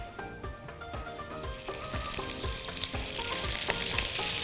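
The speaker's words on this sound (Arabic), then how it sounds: "في طاسه سخنه جدا فيها معلقتين من الزيت ومعلقه زبده" Two spoons of oil and a spoon of butter sizzle hard in a very hot pan. The close, crackling fry starts with a few light clinks and swells into a dense, hissing sizzle, with no voices.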